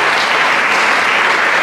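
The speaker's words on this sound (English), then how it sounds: "while you're clapping too" Dense, steady applause from an audience at a junior Latin dance competition, continuous and fairly loud throughout with no voices standing out.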